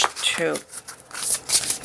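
Tarot cards being shuffled in quick riffling bursts, close up, with a voice speaking briefly over part of it.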